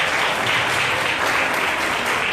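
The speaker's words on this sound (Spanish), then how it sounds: "Sí, pueden aplaudir." Audience in a church at a conference breaking into steady, dense applause, loud and continuous throughout with no break.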